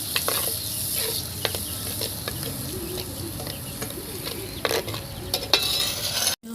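Tomato paste and onions sauté in a pan for a meal maker chilli egg pasta, giving a steady close sizzle broken by repeated scraping stirs of a spatula, with no talking.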